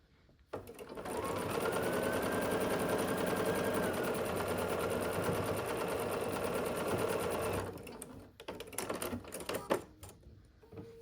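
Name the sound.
sewing machine stitching quilt block seam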